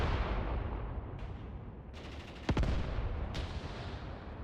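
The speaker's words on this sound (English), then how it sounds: "This anti-tank rifleman just sniping away." Distant gunfire rattles across a battlefield in the World War II video game Mius Front, with scattered rifle shots and a sharper anti-tank rifle crack standing out midway against a constant low rumble of combat.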